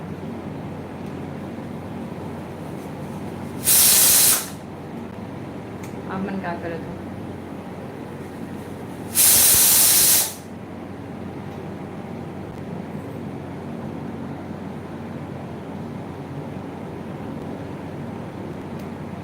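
Two loud hissing bursts of a pressure cooker whistle, several seconds apart, over a steady background hum with someone talking briefly in between.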